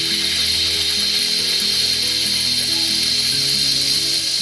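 A Silvercrest steam mop runs with a loud, steady mechanical drone with shifting low tones and a bright hissing noise, running continuously without any voices.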